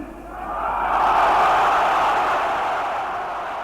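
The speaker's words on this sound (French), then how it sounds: "Vous avez entendu l'ampleur des applaudissements de la foule qui est composée pour l'essentiel de partisans de l'Algérie française" A large crowd in Algeria in 1958, made up largely of supporters of French Algeria, applauds and cheers De Gaulle's speech. The sound is a broad roar that swells and then fades gently over a few seconds.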